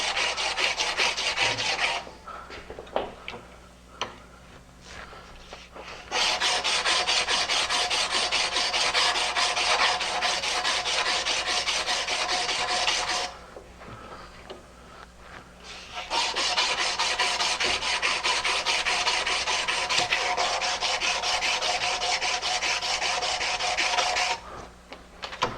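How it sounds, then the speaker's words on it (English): Abrasive rasping of a sanding strip smoothing file marks on a bicycle frame part, rubbed back and forth in long steady strokes, close up, with two short pauses between passes. "Then we'll take the sanding strip, clean up those file marks."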